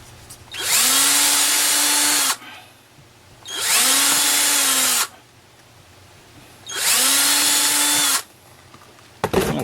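Power drill boring holes in a wooden God Bless America flag sign over cardboard: three loud whirring runs of about two seconds each, every one rising in pitch at the start, with short quiet pauses between them.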